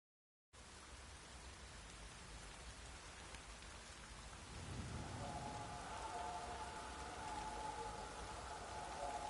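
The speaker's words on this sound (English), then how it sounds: "This downpour's a bastard, it is." Steady heavy rain in The Witcher video game pours down continuously, a dense broadband hiss that grows slightly louder and fuller partway through, with no voices.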